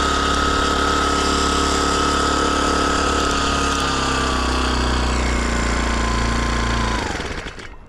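A Chinese outboard motor on a canoe drones loudly and close, then its pitch sags as it bogs down and sputters before cutting out at the end.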